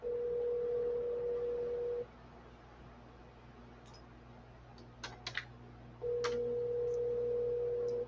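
A phone call's ringing tone: a steady, even electronic tone sounds for about two seconds, pauses for several seconds with a few faint clicks in the quiet, then sounds again just as loudly.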